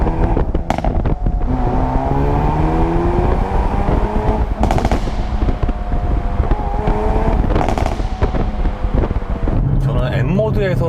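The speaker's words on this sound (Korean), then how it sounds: "이 배기 사운드는 그 터널에서 들으면은 소리가 더 좋아요" Exhaust of a Hyundai Veloster N Performance under hard acceleration, a loud, continuous engine drone rising in pitch, with rapid crackling pops and heavy wind buffeting, as a voice talks over it.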